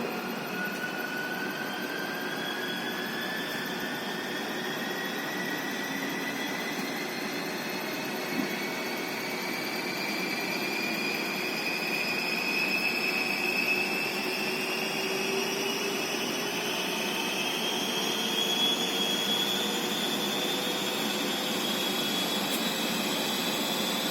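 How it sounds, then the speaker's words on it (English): A DC shunt motor under test, with armature resistance being reduced, whines steadily as it runs up to speed, its rising tones sweeping gradually upward over a constant broadband hum, with no talk. "Motor starts rotating very slowly."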